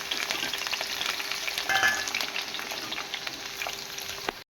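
Green chillies and curry leaves splutter in hot oil, a dense, loud close crackle and hiss that holds steady before cutting off abruptly at the end, with no voices.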